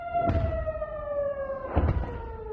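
Rocket warning siren in northern Israel, a steady wailing tone that slowly falls in pitch, heard outdoors at moderate distance with faint background thuds and no talk.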